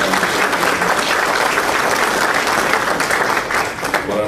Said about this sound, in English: give a round of applause kind of in advance for all the presenters